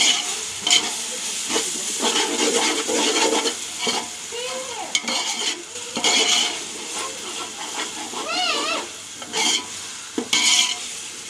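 Ginger garlic paste frying in oil for chicken dum biryani is stirred in the pan, with a steady loud sizzle and repeated scraping of the spoon against the pan, continuing without talk.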